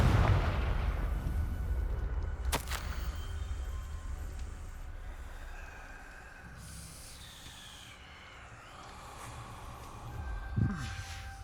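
A Confringo fire spell blasts in Hogwarts Legacy, a sharp crack near 2.6 seconds followed by a booming, rumbling burst around 10.7 seconds over a dense, low game backdrop.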